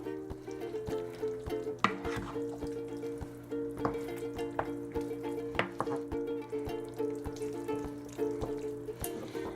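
A spoon scrapes and knocks against a pan as breadcrumbs are stirred into thick mac and cheese, with soft wet squelching and irregular clinks, close and moderately quiet.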